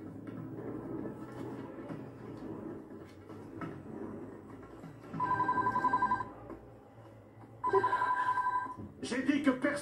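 Telephone ringing unanswered in a TV police drama scene, two bursts of rapid electronic ringing, fairly loud and close, set against a background of voices and ambient noise.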